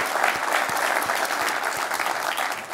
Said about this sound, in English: I think we should all give a round of applause to the conference organizers